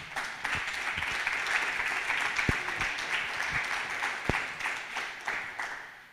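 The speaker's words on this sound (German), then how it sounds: "Bitte begrüßt sie noch einmal mit einem Riesenapplaus am Mikrofon." Sustained applause from a crowd at a poetry slam event with Bundestag election candidates, a dense even wash of clapping with a few sharper knocks, steady throughout before easing off at the end.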